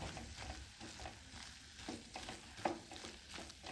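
Okra and other mixed vegetables are sautéed in a pan, a soft sizzle under recurring scraping strokes of a spatula, fairly quiet and close, with no voices.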